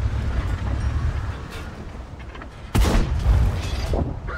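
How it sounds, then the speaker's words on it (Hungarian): A tank cannon fires in World of Tanks from a T-100 LT light tank, one sharp booming blast partway through that rolls off over a second or so, over a steady rumble of game ambience. "Erről a lövésről beszéljünk."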